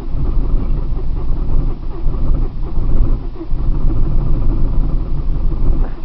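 A car with a weak battery struggles through a cold start, its engine turning over in a loud, steady, rough rumble that carries on throughout without a break.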